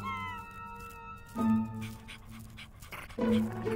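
Puppies in the video game Minecraft Story Mode panting in quick, soft breathy bursts, with two louder whimpering yelps standing out over a quiet musical background.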